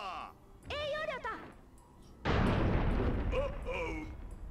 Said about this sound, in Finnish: Tykin kuulaa!